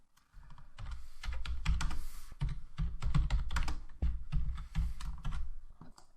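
Steady keyboard typing on a computer keyboard, dense clatter of keystrokes with short pauses, close and fairly loud, no voices.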